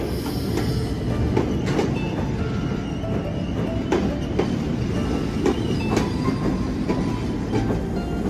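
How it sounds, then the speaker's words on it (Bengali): Benapole Express (Mahanagar), train number 796, rolling into platform two at Poradah Junction, a steady loud rumble of wheels on rails with rhythmic clickety-clack and occasional squeals, continuous and close, no talking. "মহানগর বেনাপোল এক্সপ্রেস প্রবেশ করছে পোড়াদাহ জংশনের দুই নম্বর প্ল্যাটফর্মে"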